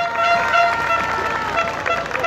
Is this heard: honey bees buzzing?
no